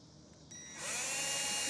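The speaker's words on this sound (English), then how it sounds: "But I'm going to start drilling out some holes now." A power drill boring holes in an enclosed trailer, quiet at first, then a sustained loud whine ramping up and holding steady as the bit cuts through.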